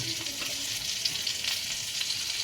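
Butter and oil sizzle in a frying pan with a continuous, bright, crackling hiss at moderate volume, close by, with no talking.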